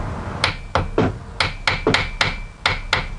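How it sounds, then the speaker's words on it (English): A hammer delivers about nine light, evenly paced taps on the rear wheel bearing of an E53 BMW X5, each strike close, sharp and metallic, with no speech. "give it a couple of taps, love taps with a hammer"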